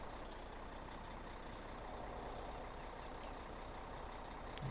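A truck engine in the video game Farming Simulator 17 on a canyon timber trail, a steady low rumbling drone that holds at an even level throughout, faint and with no one talking.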